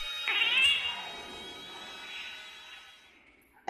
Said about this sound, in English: A black cat is staring at me, but wait, its eyes are missing.